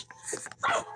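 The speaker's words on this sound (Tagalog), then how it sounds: "May aso nakasali." A dog yips and barks a few times in quick bursts outdoors in a Filipino rural neighborhood, close and sharp, with a voice calling nearby.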